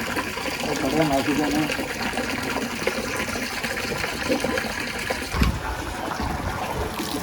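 Water gushes and splashes steadily as it is poured over farm animals bathing on a hot day, with voices faintly in the background.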